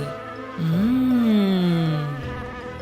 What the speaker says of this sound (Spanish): Mira, una abeja.